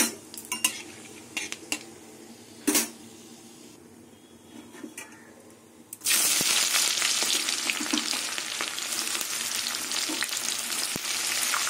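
Onions dropped into hot oil already crackling with bay leaf, dried red chili and whole cumin seeds: a few metallic clinks and scrapes of a spoon against the pan, then a sudden loud, continuous sizzle that keeps roaring steadily.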